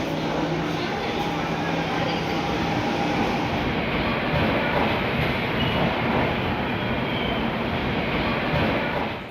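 The Udaya Express double-decker train on a trial run at Olavakkode railway station, Palakkad, makes a loud, continuous rolling rumble with a dense rattle of wheels on track, close by and steady throughout.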